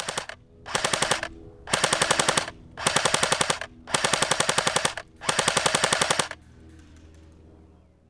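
Jing Gong AK-47 airsoft gun fired in a shooting test: five long full-auto bursts of rapid, crisp mechanical clatter with brief pauses between them, close and loud, then quiet at the end.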